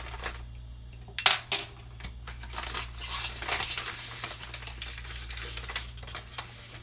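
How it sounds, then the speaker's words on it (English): Half a cup of granular erythritol sweetener pours into a saucepan on a stove, giving a soft, faint rattling patter with a few sharper clicks at the start, over a low steady hum. "I will add the half cup of erythritol"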